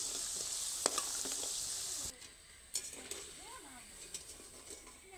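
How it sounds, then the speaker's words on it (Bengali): Kathi gaja sweets deep-frying in oil in a wok, a dense bright hiss that suddenly drops to a quieter bubbling sizzle, with a few clinks and faint voices in the background. "এদিকে কড়াইতে কিন্তু বেশ অনেকটাই কালার হয়ে গেছে"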